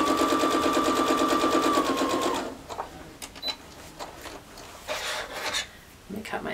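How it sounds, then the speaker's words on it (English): A sewing machine stitches quilt fabric for a mini quilt with a steady, fast whirring run of needle strokes that stops after about two and a half seconds, followed by quiet handling rustles and faint scrapes. "I'm going to then take this without shifting to my sewing machine"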